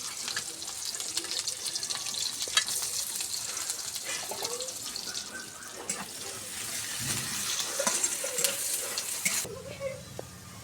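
Steady, loud sizzling of panch phoron spices, garlic, onion and dried chillies frying in hot oil for a dal tempering fills the whole stretch, with occasional stirring scrapes, and no talk.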